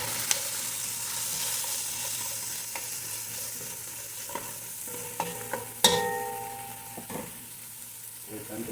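Chili and red onions sauté in a pan for a chicken-and-vegetable dish, a steady soft sizzle close by, broken by a few sharp clinks and scrapes of a utensil stirring against the pan.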